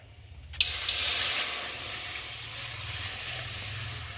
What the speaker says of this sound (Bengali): ততক্ষণ আমি কড়াটা বসিয়ে আর জল দিয়ে দেব